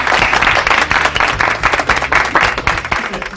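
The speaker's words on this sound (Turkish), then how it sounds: "arkadaşlar topluca Serhat'a bir alkış alalım" A group of coworkers claps together for a new worker named Serhat, loud close applause with a few distinct claps standing out, continuous for about three seconds.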